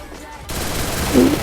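MP40 submachine gun fire in a shooting video game, a loud continuous burst of rapid shots starting abruptly after a brief quieter moment.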